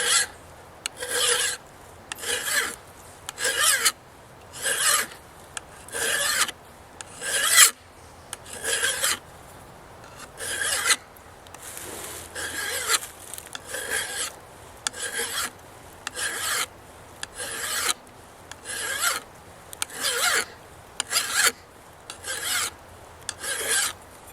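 Steady back-and-forth rasping of a file across the spine of a Mora Bushcraft Force steel knife, about two dozen evenly spaced strokes, close and clear with no talking.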